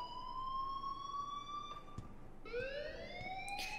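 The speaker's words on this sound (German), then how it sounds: "please turn off that alarm" A rising, wailing electronic alarm in the Life is Strange video game, with a steady tone that cuts out briefly and then starts climbing again at moderate volume, with no talking.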